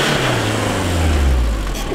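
A Renault Scenic's engine revs loudly and steadily while the tires are warmed for drifting, its low drone rising in pitch and holding close up.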